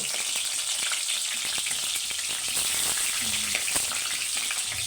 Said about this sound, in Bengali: তেল গরম হয়ে গেছে রসুন কুচি দিয়ে দিল